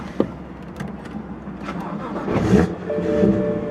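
A car fitted with a Borla S-Type exhaust makes a warm start: a brief starter crank, then the engine catches and swells to a loud, rumbling idle nearby.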